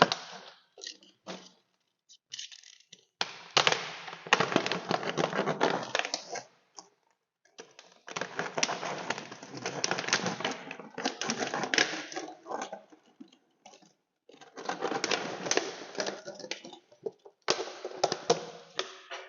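A plastic container is cut apart to make a waste-oil catcher for a Yamaha X-Max scooter oil change, giving close, bursty crunching and crackling that starts and stops repeatedly.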